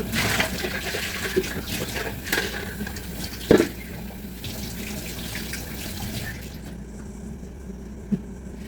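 Water from a kitchen tap runs steadily over a spoon or bowl while making cornmeal cake batter with guava paste, a continuous hiss with a brief clatter midway, tapering off near the end, with someone talking over it.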